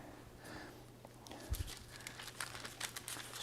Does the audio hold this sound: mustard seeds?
no